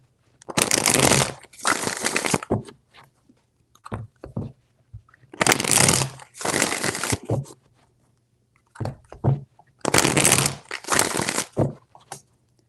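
Tarot cards are riffle-shuffled in three clusters of crisp, papery bursts, each a pair of rapid riffles, with brief taps and quiet gaps between them and no talking.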